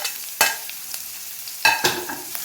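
Sliced shallots frying in a pan for a traditional Kerala fish curry, stirred with a couple of sharp scraping clatters over a faint steady sizzle, close and fairly quiet, no talk.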